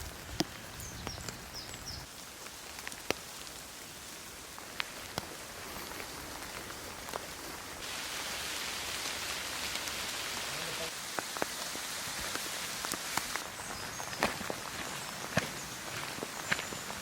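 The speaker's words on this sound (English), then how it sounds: "Drizzly, misty, but not miserable." Light drizzle falling on a misty autumn wild camp in Derbyshire, a soft steady patter with scattered drips and occasional louder taps, faint and continuous throughout.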